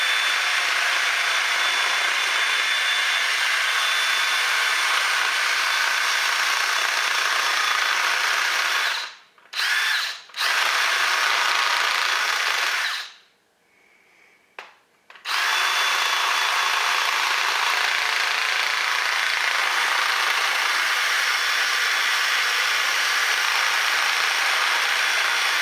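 A power drill bores a hole into a whitetail deer skull being prepared for a European mount, whining steadily and fairly loud with two brief pauses and a longer stop midway.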